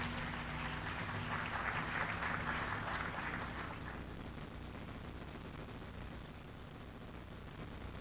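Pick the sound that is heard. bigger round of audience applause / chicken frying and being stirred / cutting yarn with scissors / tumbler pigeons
bigger round of audience applause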